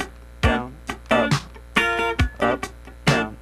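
Slow funk rhythm guitar: a series of short, percussive chord strums and muted chops in an up-down strumming pattern, played alone and close up with clear gaps between strokes.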